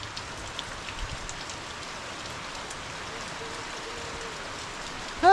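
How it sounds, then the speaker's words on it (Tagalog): Heavy rain pouring down outdoors near fishponds, a dense steady hiss of drops striking surfaces, moderately loud and continuous with no voices over it. "Bigla naman bumuhos yung ulan."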